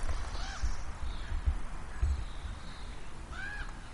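A couple of faint, distant crow caws, spaced a few seconds apart, over a low, steady outdoor rumble.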